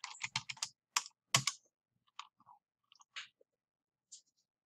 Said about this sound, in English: up here in the address box, I'm going to type in arrt.org.